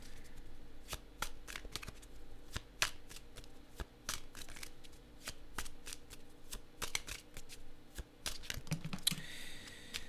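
A deck of fortune-telling cards is shuffled in quick, crisp riffles and taps, close and fairly quiet, steady throughout with no talking.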